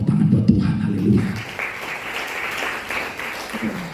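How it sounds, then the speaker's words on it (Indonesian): A congregation breaks into sustained applause at a Pentecostal revival service in Papua, the broad clapping swelling after a brief low murmur and carrying on steadily to the end. "Berikan tepuk tangan buat Tuhan"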